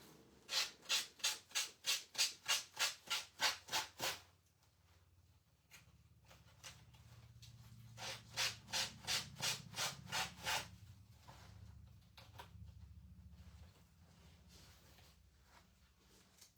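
A wooden frame edge is sanded by hand in rhythmic back-and-forth strokes, a quick run of about a dozen rasping passes, then a pause and a second shorter series, fairly quiet and close.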